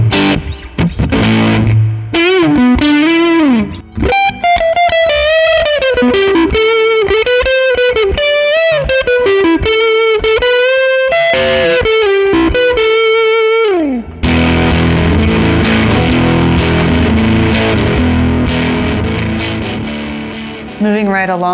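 Distorted electric guitar run through a boutique effects pedal, played loud and continuous with sustained bent lead notes, then a thick chord-heavy wash in the second half.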